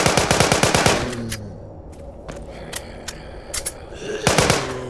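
Bursts of automatic gunfire in the Walking Zombie 2 video game: rapid volleys of shots open and close the passage, with scattered single cracks between them, loud and close with no voice over them.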